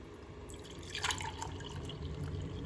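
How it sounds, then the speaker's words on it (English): Pineapple ginger tea is strained into a cup, giving a soft, faint trickle and light dripping that swells briefly midway, with no one talking. "I'm going to just strain out these larger pieces and then have a cup of tea."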